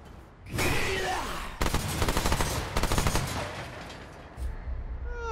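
Rapid automatic gunfire from a large-magazine gun in the video game Remnant 2 rattles loudly and continuously in long bursts, with sharp, dense repeated shots up close and a short pause before firing resumes.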